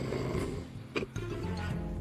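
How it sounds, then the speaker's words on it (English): A person snoring somewhere nearby in a shared dormitory room at night, a few rough, rumbling breaths rising over a steady hum of background noise. "And then somebody over there starts snoring."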